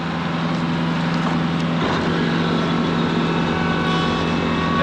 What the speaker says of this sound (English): I'm now going to take my snowblower back over